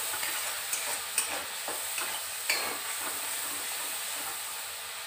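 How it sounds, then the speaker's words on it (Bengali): Ground spice paste, mixed with water, hits a hot pan and is stirred, giving a steady close sizzling hiss with a few sharp spatter pops and soft scraping strokes, no voices. "গুঁড়ো মশলার যে একটা মিশ্রণ করে রেখেছি এটা আমি ঢেলে দিচ্ছি। এটা জাস্ট একটু নাড়াচাড়া করে"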